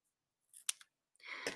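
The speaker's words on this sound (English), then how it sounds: "I'm going to fold it in half and cut it." Scissors snip through a folded Color Street nail polish strip, a few quiet close crisp cuts and clicks with silence between.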